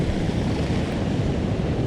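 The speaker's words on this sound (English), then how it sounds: "Comes a nice wave in right there" Ocean surf of white water washing in over a rocky shore, a broad, steady rush mixed with wind buffeting the microphone, loud and continuous across the short stretch.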